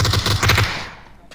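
Rapid automatic gunfire in the battle royale game PUBG, a short burst of close, cracking shots that fades out over about a second.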